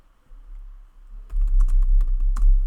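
Quick keystrokes on a computer keyboard, a close, crisp burst of typing after a short quiet hum, with steady clicking that continues to the end.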